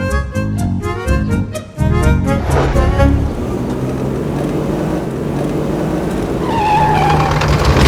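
A car brakes hard and skids to a stop, a loud tire screech and engine burst at the start fading into a lingering rumble, with a tonal squeal near the end.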